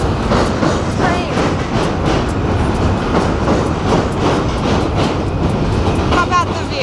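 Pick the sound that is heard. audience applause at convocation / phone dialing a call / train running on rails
train running on rails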